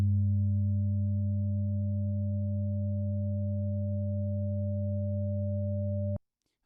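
A steady, pure sine tone from Ableton's Operator FM synthesizer holds unchanged for about six seconds with a low harmonic hum beneath, then cuts off abruptly.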